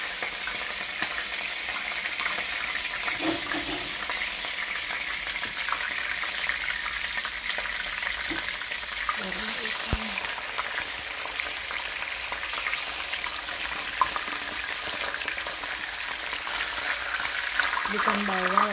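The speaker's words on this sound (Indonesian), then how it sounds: "Sekarang kerupuknya udah mateng, aku mau goreng ikan." Fish fries in hot oil with a continuous, even sizzle and hiss, and faint voices briefly rise above it now and then.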